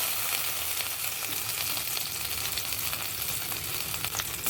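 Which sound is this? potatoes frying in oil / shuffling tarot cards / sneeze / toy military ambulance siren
potatoes frying in oil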